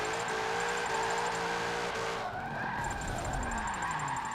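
Car that is not a drift car, being driven sideways around a track, with loud sustained tire squeal and skidding over a straining engine, the screech shifting in pitch as the slide continues.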